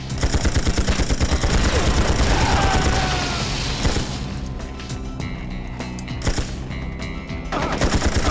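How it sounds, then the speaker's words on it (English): Rapid automatic gunfire from the PS1 game 007 Tomorrow Never Dies, a loud dense burst of shots that thins into scattered bursts and booms toward the end. "And someone is still shooting at me."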